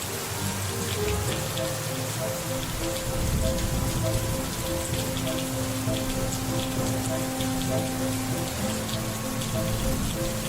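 Torrential rain pours steadily during a storm in Dubai, a dense, loud, continuous hiss of heavy drops drumming on surfaces, with no break throughout and no voices.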